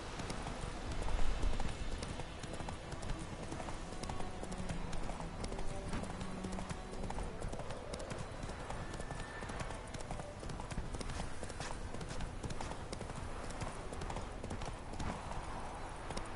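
Roach the horse gallops in The Witcher 3 in a fast, continuous clip-clop of hooves over game ambience, with a brief whinny-like sound and faint background voices.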